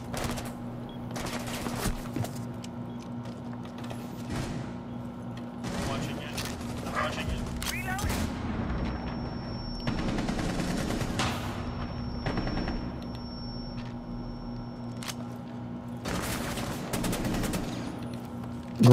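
Gunfire in the tactical shooter Rainbow Six Siege, with repeated rifle bursts and single shots, weapon handling clicks and game effects, heard over a steady background hum.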